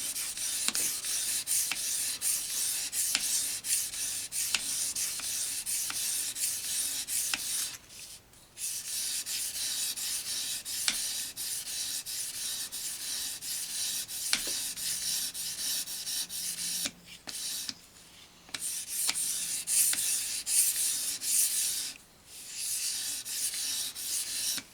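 Steady rasping strokes of a knife blade drawn across a stone on an EdgePro Apex sharpener, close and continuous, with a few brief pauses between passes.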